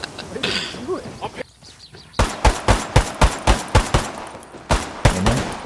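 Gunfire in the Ghost Recon Wildlands Ghost War PvP mode: a rapid, close burst of around a dozen sharp rifle shots at a steady rhythm, preceded by a voice talking.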